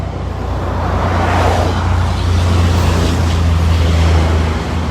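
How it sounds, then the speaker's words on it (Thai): Dense road traffic of cars and trucks on a Thai roadside makes a continuous loud rumble and broad wash of engine and tire noise, with no voices. "การจราจรค่อนข้างหนาแน่นนะครับ"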